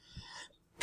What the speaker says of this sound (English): I've got a cough